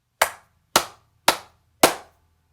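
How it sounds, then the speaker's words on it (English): Four sharp hand claps ring out in a room treated for sound, evenly spaced about half a second apart, each a crisp loud snap with a brief decay and no talking. "If I clap my hands"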